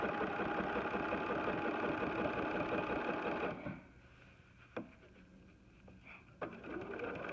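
A BERNINA sewing machine doing free-motion quilting with a ruler foot, a loud steady whirring hum for several seconds that stops abruptly, followed by a few soft clicks and handling noises.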